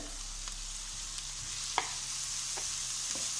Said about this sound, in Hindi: अब ये अदरक लहसुन भी हमने डालना है, ये हल्का सा फ्राई हो जाए।